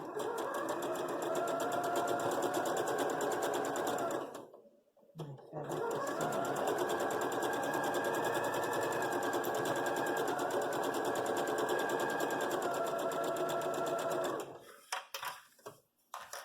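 A sewing machine with a quarter-inch foot stitches a quilt block, running in a steady, fast whir for several seconds, pausing briefly, then running again before stopping with a few short bursts.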